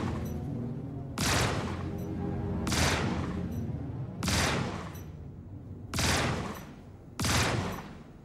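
Bursts of rapid gunfire ring out in the video game Star Citizen, arriving as five loud, dense volleys separated by short pauses, with a rumbling tail between them.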